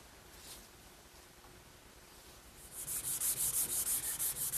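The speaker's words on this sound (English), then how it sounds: "I've sanded the entire case with some 320 grit wet dry sandpaper" Hand sanding of a white oak case with 320 grit wet/dry sandpaper over sealer: faint and quiet at first, then a steady run of rhythmic back-and-forth rasping strokes near and loud, with no talk.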